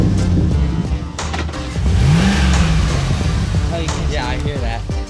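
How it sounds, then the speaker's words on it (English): Spencer's truck engine revs loudly nearby, rising and falling with crackling exhaust pops, while voices talk over it outdoors at a campsite. "I can hear Spencer's truck."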